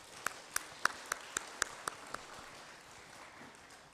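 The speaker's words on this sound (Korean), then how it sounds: "우리 아이들 나올 때 하나님께 영광 돌리며 박수로 격려하겠습니다." Church congregation clapping to encourage children coming forward, a slow, rhythmic series of about nine distinct claps in steady time, then a faint murmur of room noise.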